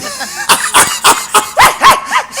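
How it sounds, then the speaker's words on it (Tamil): A dog barks in a rapid series of about eight sharp, loud yelps and barks, close by, with strained whimpering tones and no talk. "அட எந்த வகை நாயினே தெரியல"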